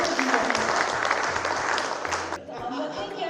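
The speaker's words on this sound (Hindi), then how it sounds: "एक बार आप अपने इस उत्सव के लिए तालियां बजाइए।" Audience applause at a Hindi poetry festival, a broad sustained clapping from a crowd that cuts off abruptly partway, leaving quieter room sound and murmur.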